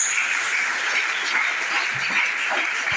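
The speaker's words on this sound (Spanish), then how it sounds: "le damos un aplauso con toda el alma" A church congregation at a Pentecostal service applauds, dense continuous clapping filling the room at steady loudness for the whole stretch.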